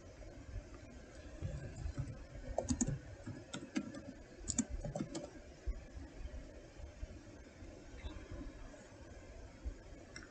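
Computer keyboard typing in irregular bursts of clicks over several seconds, moderately close and fairly quiet, with a steady low background hum and no talking.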